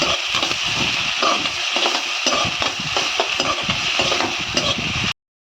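Onions for egg chukka frying in a pan, a continuous sizzle with repeated spatula scrapes and clinks, close and fairly loud, ending abruptly with no talk.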